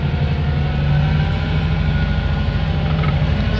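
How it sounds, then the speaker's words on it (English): A vintage Morris Oxford's four-cylinder engine, about 2 litres, idles steadily and loudly nearby, a low, chugging, tractor-like rumble with no talking. "Sounds a bit like a tractor, doesn't it?"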